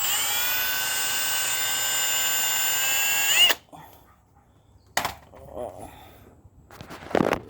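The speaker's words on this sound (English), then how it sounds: "so we're going to drill a hole" A power drill whines steadily at high pitch for a few seconds while drilling a hole in a trailer for an internal sprayer install, then stops, followed by scattered clinks and handling noises.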